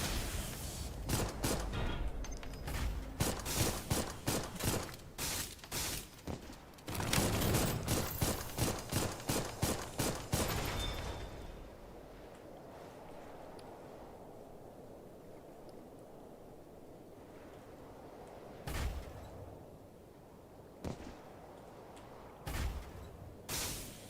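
Enemy gunfire in the mech combat game Armored Core: rapid, loud bursts of automatic shots for about ten seconds, then quieter rumble with a few scattered isolated shots.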